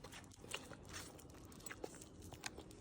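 Boston terrier chewing food, close, faint crunchy bites and gnawing clicks repeating irregularly over a quiet background.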